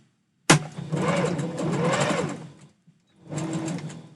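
A sewing machine stitches steadily at close range for about two seconds, stops briefly, then runs again in a shorter burst, a whirring mechanical hum with rapid needle clatter.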